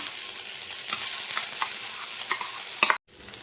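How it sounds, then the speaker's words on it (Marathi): Smashed potato sizzles loudly in hot oil in a kadhai for a dabeli sandwich filling, a dense crackling hiss with spatula scrapes that cuts off abruptly near the end before resuming faintly. "तेल गरम झालं आहे, त्यात मी टाकणार आहे हा स्मॅश केलेला बटाटा"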